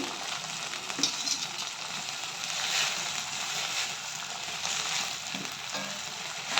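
Fenugreek leaves sauté in hot oil with softened tomato and onion for baingan bharta, a steady, close sizzling hiss that runs throughout with small stirring scrapes and no talking.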